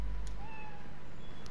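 Spider-Cat meowing in the video game Spider-Man Miles Morales, one clear drawn-out meow over a quiet game background.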